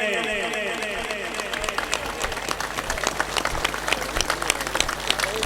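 An audience at a motivational speaking gathering in Kasur applauds the organisers: a speaker's voice at the start gives way to a steady, lively wash of many hands clapping, close and continuous to the end.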